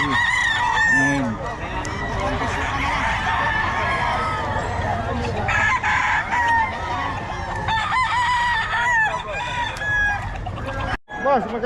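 Roosters and chickens for sale at a poultry market in Bocaue crow repeatedly and cluck nearby, with crowd chatter and people bargaining underneath.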